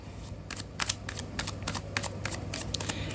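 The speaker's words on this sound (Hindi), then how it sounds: "Last shuffle." Tarot cards shuffled by hand, giving a close series of quick riffling bursts with short gaps, steady and fairly quiet, with no talking.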